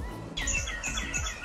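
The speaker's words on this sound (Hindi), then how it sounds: "शांति से बैठ के बालकनी में चिड़ियों की आवाज़ को सुनिए" Birds chirp and tweet outside a balcony in Mauritius, with repeated bright calls overlapping at moderate distance over a low ambient background, no talking.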